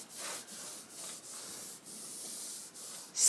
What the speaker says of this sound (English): I'm gonna rub this on the wall and show you the difference